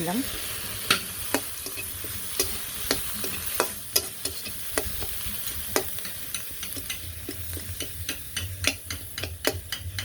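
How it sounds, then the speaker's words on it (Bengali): Chopped onions and green chillies stir-fry in a pan, with a steady low sizzle under repeated sharp clicks and scrapes of a spatula against the pan at an uneven rhythm, close and fairly loud. "দিলাম ভাজা ভাজা হয়ে"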